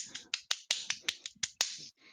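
Quick sharp finger snaps, about a dozen in an uneven run, close and dry, imitating skeleton hands clacking together in a quiet golf clap.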